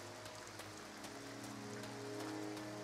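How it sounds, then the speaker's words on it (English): Rain falling in the video game Two Worlds, a steady close patter of drops on surfaces with a faint low hum beneath, continuous and even throughout. "It's raining."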